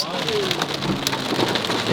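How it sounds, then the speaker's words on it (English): Dense, steady patter of heavy hail striking surfaces, a constant loud hiss with sharp scattered impacts throughout. "I've never seen hail this hard before."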